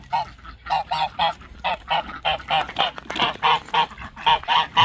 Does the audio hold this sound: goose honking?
yes